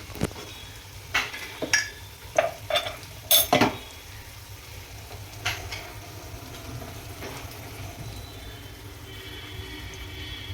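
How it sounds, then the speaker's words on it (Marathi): Cooked whole masoor lentils being stirred into sizzling masala in a pan, with a run of sharp spoon-on-pot clacks over a steady low sizzle that later settles into quieter frying. "अख्खा मसूर जो आहे कुकरमध्ये शिजवलेला तो आता याच्यात टाकून घेऊ"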